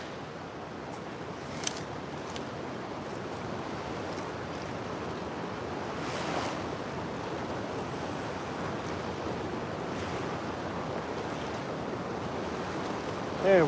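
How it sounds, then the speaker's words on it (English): Strong current of a flooded river where catfish are sought, a steady broadband rush of churning water with wind buffeting the microphone, continuous and fairly close for the whole stretch, with no talking. "see how bad the current and all the water is pushing out there right now"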